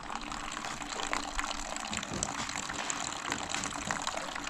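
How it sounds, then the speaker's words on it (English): Water pours and splashes continuously onto very dry, dusty ground, a steady gushing wash at close range. "So right away I'm going to put in some water, since it's dry."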